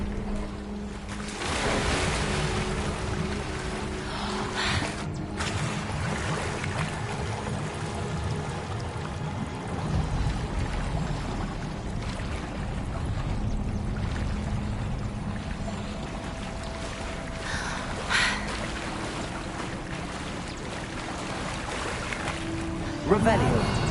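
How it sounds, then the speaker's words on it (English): Water bubbles and churns in the video game Hogwarts Legacy, a continuous splashy, pouring wash with occasional louder gurgles over about twenty seconds, and a voice is faintly present at times. "Look, where the water's bubbling."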